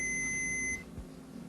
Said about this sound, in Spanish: Primeramente comprobamos que el zumbador efectivamente funciona.